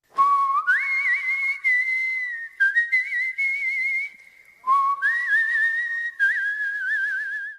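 A person whistles a smooth melody alone, long held notes sliding up and down in several clear phrases, close and fairly loud.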